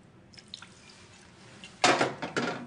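Vermouth splashes into a Bloody Mary in short bursts: a few faint drips early, then a louder close pour and a second brief splash, with no talk.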